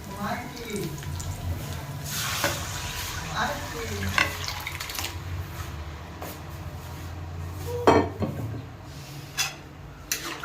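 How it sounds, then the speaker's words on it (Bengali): Boiled lentils tipped into a hot frying tempering for vegetarian dal and stirred in the pan: steady sizzling with scraping stir strokes and a few sharp clinks, close and moderately loud throughout. "এবার আমি ভাজাটার মধ্যে সেদ্ধ করে রাখা ডালটা আমি দিয়ে দেবো।"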